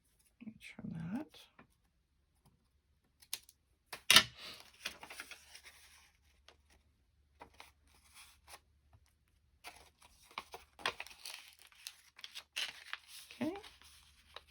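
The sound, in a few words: paper being trimmed for a hidden pocket envelope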